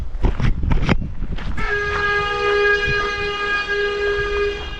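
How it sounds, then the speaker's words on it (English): A train passing on a rural Suffolk line sounds a long, loud horn after a few heavy rumbling thumps, the sustained blast holding steady over rolling wheel noise. "that's our train."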